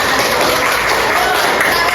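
Classroom group in an Indonesian lesson breaks into applause, a loud, dense and continuous patter of many hands clapping at once without a pause.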